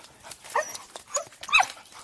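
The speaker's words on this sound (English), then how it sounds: "Banjo, you are such a smart dog." A dog whimpers and yips in short, close bursts beside a stream during a morning walk, with a few quiet breaths and shuffles between the cries.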